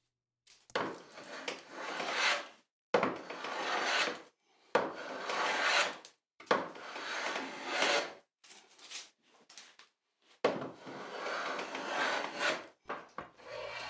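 A hand plane shaves along the length of a wooden panel gauge beam in long rasping strokes, about six close passes separated by short silent gaps as it is drawn back.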